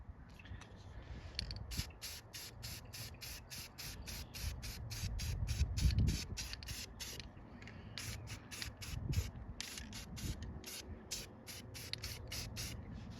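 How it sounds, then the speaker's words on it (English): Krylon matte black all-in-one primer and paint sprays onto an arcade cabinet part in rapid, regular short hissing bursts with a steady background hiss and no talk. "use a little bit of this Krylon matte black all-in-one primer and paint"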